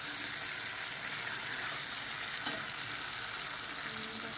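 Food sizzles steadily in a pan as a home cook fries a meal, with a continuous close crackle and one brief clatter partway through.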